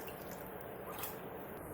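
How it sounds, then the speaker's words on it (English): Cold water runs over boiled soya chunks in a strainer, a steady, soft wet rush with faint squishy dripping, close and quiet, with no voices. "Wash them with cold water."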